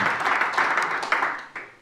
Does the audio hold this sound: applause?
yes